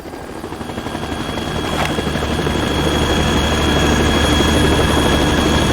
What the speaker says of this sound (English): Ah, guck mal, da kommt unser Heli.